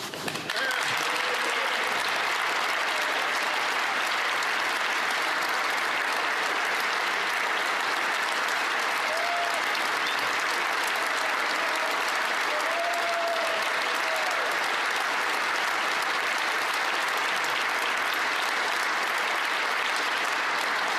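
Members of the House of Commons applaud in the chamber, a sustained broad wash of clapping that carries on evenly for about twenty seconds, moderately loud and slightly distant.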